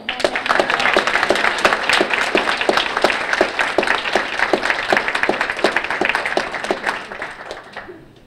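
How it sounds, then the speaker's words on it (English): A crowd applauds steadily at a mock trial, dense clapping sustained for several seconds before tapering off toward the end. "let's start with a round of applause."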